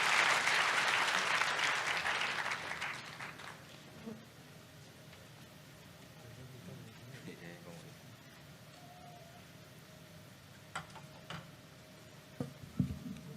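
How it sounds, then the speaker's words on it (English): Audience applause at a 2023 International Anti-Corruption Day event, loud and dense for a few seconds, then thinning into quiet room noise with scattered ticks and faint voices. "Please clap for"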